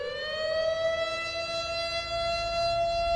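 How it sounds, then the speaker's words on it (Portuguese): A civil-defense style air-raid siren in a mystery island video game, one long sustained wailing tone that holds steady and slowly swells, loud and alone. "Parecia aquelas sirenes de bomba atômica."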